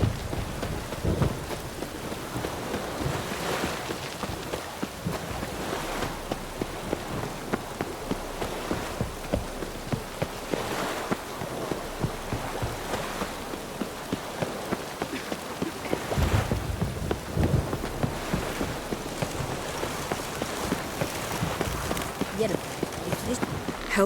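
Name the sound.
rain in a video game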